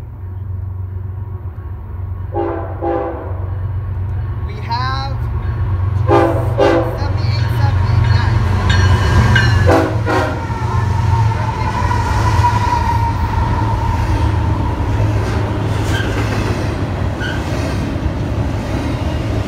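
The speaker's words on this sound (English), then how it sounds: "Guys, we have an eastbound intermodal." An eastbound intermodal freight train rolls loudly past Fullerton station, its deep rumble steady throughout while the horn sounds in several separate blasts early on.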